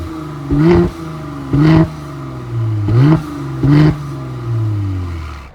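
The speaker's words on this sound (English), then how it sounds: "sound of when the car turns on" A 2017 Mercedes GLC 43 AMG engine in comfort mode, heard close and loud as a steady idle broken by four short, evenly spaced rev blips, with the last rev dropping back smoothly toward idle.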